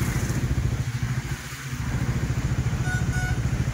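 Traffic stuck in a jam on a road near Belapur bridge, with a motorcycle engine chugging steadily up close and a dense hum of other vehicles around it, no voices.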